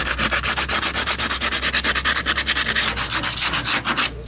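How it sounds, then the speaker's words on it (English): Car body panel being sanded by hand with regular sandpaper during a cheap auto body repair, a steady run of rapid, even back-and-forth rasping strokes, close and loud, with no talking. "Just gonna get some regular sandpaper, don't matter what. Scratch it up a bit."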